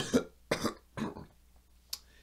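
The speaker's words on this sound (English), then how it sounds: "I'm sorry I had to clear my throat" Several rough throat-clearing coughs from one person, three close together then a softer fourth after a pause, quiet and close in an otherwise still room.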